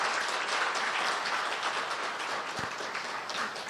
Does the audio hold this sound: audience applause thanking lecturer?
yes